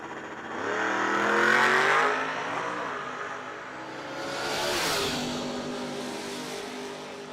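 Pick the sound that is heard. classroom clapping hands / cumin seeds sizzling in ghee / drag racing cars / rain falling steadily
drag racing cars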